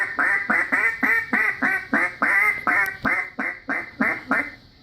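A handheld duck call imitates a young hen with a fast, high-pitched series of about a dozen evenly spaced quacks, loud and close, with no talking over it.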